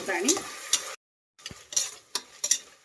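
Fresh green peas tipped into a hot pan with ginger-garlic paste for tomato bath, stirred with a spoon in a few scraping strokes around a soft sizzle, with a brief silent break midway.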